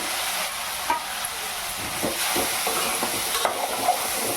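Tomato and tamarind chutney stirred in a hot pan, a steady sizzle with repeated soft scrapes and taps of the spoon, close and alone without speech.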